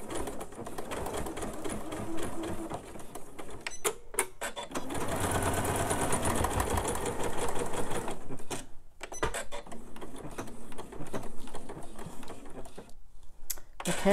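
A sewing machine stitching a seam on a fabric purse, a rapid mechanical chatter running steadily near the microphone with brief pauses and small clicks as the stitching stops and restarts.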